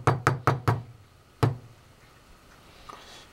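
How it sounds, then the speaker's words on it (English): Filled container knocked on a kitchen counter to bring trapped air to the top, four quick sharp thuds in a row, a pause, then one more, close and solid. "I just kind of take it and knock it on the counter some to try and get the air up above"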